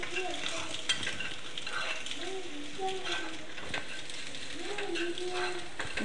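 A spatula stirring egg fry seasoned with chilli powder and salt in a sizzling pan, with steady frying hiss, scraping and clinks, while someone talks over it.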